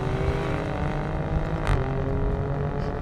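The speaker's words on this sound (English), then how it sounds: "it's what comes out of those tailpipes" A 2021 Alfa Romeo Stelvio Q SUV exhaust, a loud, steady, close droning engine note held throughout, with a brief swell partway through and no voices.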